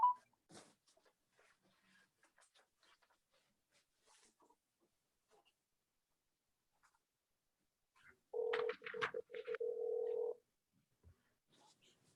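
A telephone ringing for a call-in caller during a city council webinar: one sustained electronic ring of about two seconds, fairly clear, following faint scattered clicks and near-silence.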